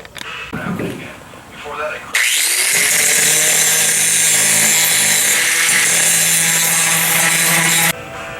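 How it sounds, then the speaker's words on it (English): A few seconds of muffled handling noise, then a loud, steady high-pitched grinder whine grinding car body down to bare metal, running continuously before cutting off abruptly. "I'm just going to grind this down, get it to bare metal"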